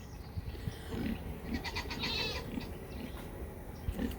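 Dairy goats on a small one-acre homestead bleat in several short, separate calls, fairly close and otherwise quiet.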